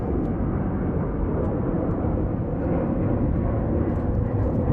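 An airliner in Disney Toontown livery at LAX roars continuously with a broad, loud rumbling jet noise, steady and close throughout with no talk.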